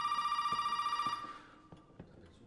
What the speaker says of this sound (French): Où qu'on soit, faut tout le temps être emmerdé par un téléphone.